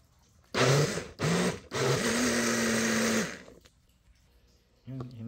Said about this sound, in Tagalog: Lagyan ito sa blender. I-blend natin.